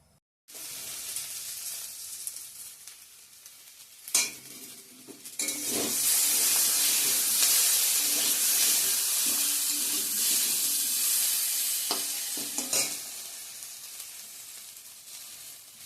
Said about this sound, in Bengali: তো এদিকে আমার কাঁচা কলাটা ভাজা হচ্ছে